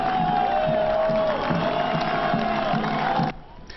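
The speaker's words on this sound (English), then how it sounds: "A crowd was on hand to greet the Union as they left for the West Coast." A crowd cheers and shouts in a sustained, loud roar as the Philadelphia Union soccer team departs for the MLS Cup Final in Los Angeles, with a whistle-like tone running through it before the noise drops off near the end.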